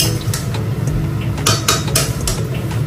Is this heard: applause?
no